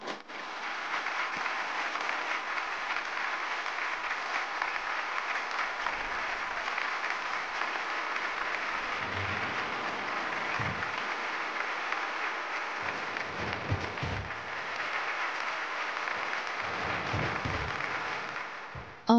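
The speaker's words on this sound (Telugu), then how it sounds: "తనని మనం చప్పట్లతో ఎంకరేజ్ చేద్దాం" A studio audience on a Telugu TV show claps steadily for a nervous contestant, a long even wash of applause with occasional louder hits and a few low thumps.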